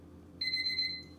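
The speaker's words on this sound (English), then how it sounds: "Look, I set the timer." A kitchen timer alarm goes off with a steady high electronic beeping that starts abruptly and continues for under a second, loud over a quiet room with no talk.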